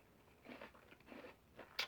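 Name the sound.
biting and chewing a crisp apple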